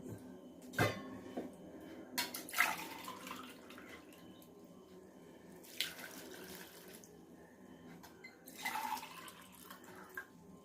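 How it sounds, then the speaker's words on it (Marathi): About one and a half glasses of water poured into a pot of snake gourd rings: several separate splashing gushes with quiet gaps between them, close but fairly soft, no talking. "दीड ग्लास पाणी घालून हे मी 15 ते 20 मिनिट उकळून घेणार आहे"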